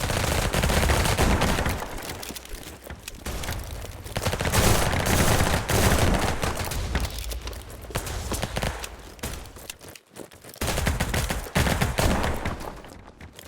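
Rapid automatic gunfire from the P50 in the video game Battledudes, loud sustained bursts of fusillade with brief pauses between strings of shots, no talking.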